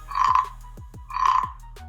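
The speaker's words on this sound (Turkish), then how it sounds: "Yoksa bence gayet başarılı bir kurbağa sesi." Two raspy croaks from a scraped 3D-printed frog toy, close and fairly loud, separated by a brief pause.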